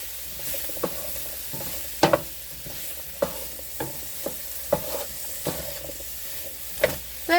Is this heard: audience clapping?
no